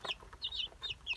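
Small black-legged chickens in a backyard poultry yard clucking, a quick series of short, close, high-pitched clucks repeating in an uneven rhythm.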